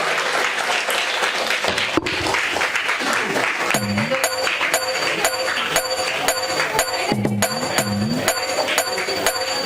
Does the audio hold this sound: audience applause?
yes